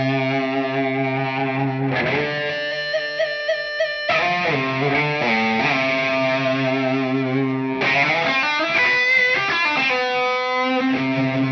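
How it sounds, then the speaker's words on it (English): A Schecter electric guitar played through a distortion pedal rings out heavily saturated chords and sustained notes, loud and buzzing, with abrupt changes between held chords and no talk. "I'm going to put my distortion pedal on for this guitar and see what happens"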